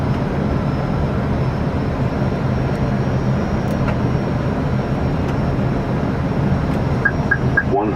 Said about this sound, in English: this Airbus A320 was forced to execute a go-around